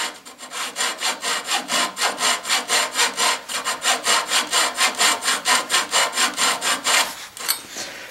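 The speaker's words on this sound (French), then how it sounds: "Et je termine avec une petite scie. C'est une petite lame à métaux." A small hacksaw with a metal-cutting blade rasps back and forth through a wooden bowl on a lathe in quick, even strokes, about three per second, close and steady, stopping near the end.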